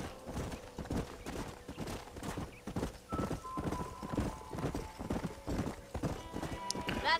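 Rapid, rhythmic hoofbeats of a galloping horse in the video game Red Dead Redemption pound steadily throughout, with a brief whinny and faint game sounds in the background.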